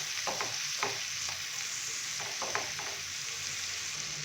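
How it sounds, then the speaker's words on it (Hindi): Diced carrots and capsicum stir-fried in a pan, a steady hiss of frying under scattered utensil scrapes and taps against the metal, several distinct strokes spread through the clip. "अच्छे से मिक्स करेंगे और हल्का सा हम इनको फ्राई कर लेंगे"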